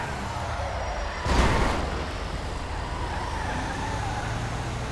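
A tow truck in GTA V idles with a steady low road-vehicle rumble, a brief hissing air-brake-like burst about a second in, then continuous engine drone.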